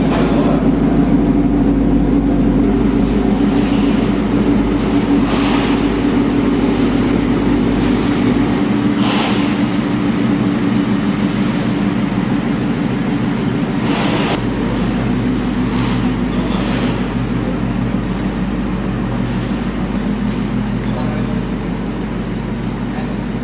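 A Ford Mustang fitted with new BC Racing coil-overs is driven out, its engine a steady low rumble that runs throughout, with occasional louder bursts.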